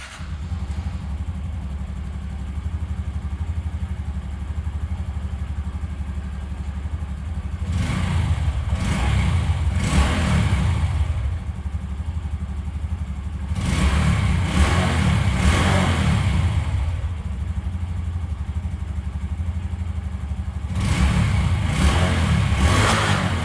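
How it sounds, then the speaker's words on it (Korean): A Honda Hunter Cub 125 motorcycle idles with a steady low thrum, then revs up in three distinct bursts, each swelling loudly before dropping back to idle, with no talking. "엔진 사운드도 들어보겠습니다."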